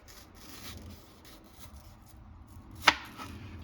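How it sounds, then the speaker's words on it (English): A kitchen knife slicing mango flesh away from the seed on a cutting board: a soft scraping rub through the fruit, then one sharp tap as the blade hits the board, close and quiet, no talking. "try to cut as close to the seed as possible."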